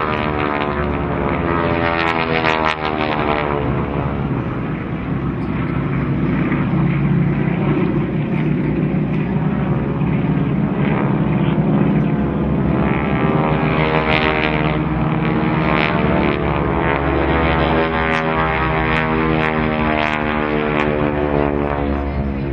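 Aerobatic display aircraft fly in formation at a seaside air show, a loud, steady, continuous engine roar with slowly shifting pitch, like a sustained flyby, alone without talk.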